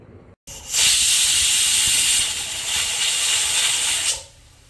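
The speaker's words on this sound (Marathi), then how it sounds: "आता एका कुकरमध्ये आपण इथे बटाटे उकडून घेणार आहोत" A pressure cooker boiling potatoes lets off a loud, steady hiss of escaping steam that holds for about three and a half seconds, dips slightly, then cuts off abruptly, leaving a quiet kitchen.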